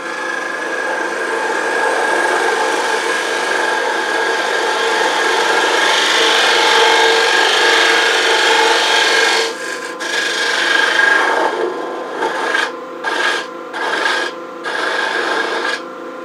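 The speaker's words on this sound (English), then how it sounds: "Using my dovetail tool," A dovetail tool cuts into a spinning piece of wood on a lathe, giving a loud, continuous scraping rasp that breaks into short choppy bursts near the end.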